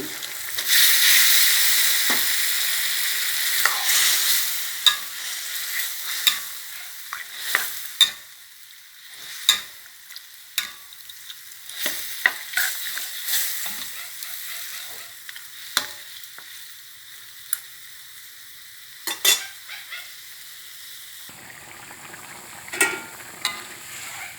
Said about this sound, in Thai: พริกแกงหอมแล้วไก่บ้านลงเลย